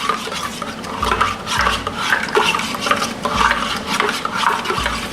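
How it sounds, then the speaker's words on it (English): Mango mead must is stirred in a container, a loud, close, rhythmic scraping and sloshing that repeats in steady strokes with no voices. "Get a good stir."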